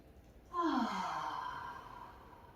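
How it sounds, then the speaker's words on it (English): A single long, audible exhale pushed out through the mouth during yoga breathing. It starts abruptly as a breathy sigh and fades slowly over about two seconds, close and clear over quiet room tone. "inhaling deep, exhale out through the mouth"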